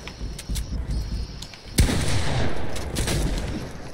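Gunfire in a Fortnite free-for-all gun game match: a sharp, loud shot cracks out near the middle, surrounded by lighter scattered pops and rattling shots at moderate distance.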